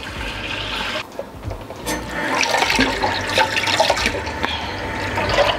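Tap water runs into a container of water mixed with bicarbonate soda for washing fruit, a continuous splashing gush that fills and swells in volume over several seconds, with no talking.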